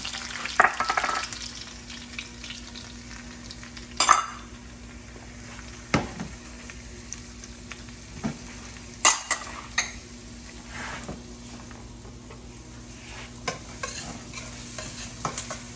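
Onions, celery and green onion tops frying in a pan for stuffed mushrooms, a quiet sizzle under repeated spoon scrapes and clanks against the pan at irregular intervals, close by with no talking.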